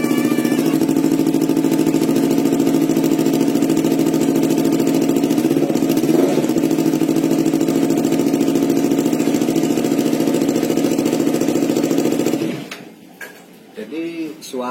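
Yamaha R25 motorcycle with a Sakura exhaust fitted with one dB killer, idling steadily and loud with an even, smooth drone close by, then cutting off near the end.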